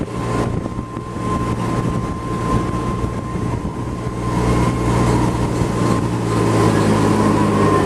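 The engine of a Busch Gardens tram runs in a continuous, loud, steady drone with a constant hum and rumble, and wind noise over the microphone, while no one speaks.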